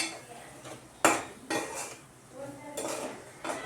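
Egg fry and chicken fry being mixed into noodles in a pan, with several distinct metal clanks and scrapes of a utensil against the pan at an uneven rhythm, close and fairly quiet.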